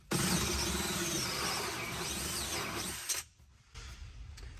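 Drill spinning a 2-inch hole saw through a plastic panel and plywood beneath it: a loud, steady grinding whine for about three seconds, then a sudden drop as the cut breaks through, followed by a lower, softer rasping.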